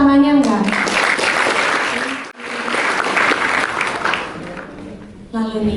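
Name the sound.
audience applause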